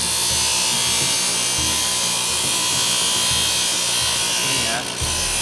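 An electric planer works steadily on wood for a coconut-shell bagol, producing a loud continuous motor whine with a dense, even grinding texture and a brief dip near the end.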